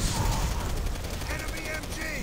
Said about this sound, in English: Enemy MG.